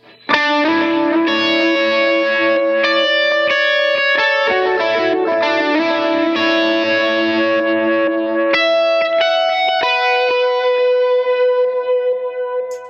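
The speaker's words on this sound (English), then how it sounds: "Now this sounds pretty cool with some overdrive." An overdriven electric guitar played through a Line 6 POD Go modeler rings out in sustained, harmonically rich chords and notes, loud and continuous with a slight wobble of effects, no talking over it.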